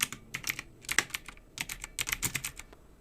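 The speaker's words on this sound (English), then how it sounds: "Next, we just enter the text here, and for that, I just wrote welcome to." Typing on a computer keyboard while entering text for an acrylic welcome sign design, with quick irregular bursts of light key clicks, close and fairly quiet, with short pauses between flurries.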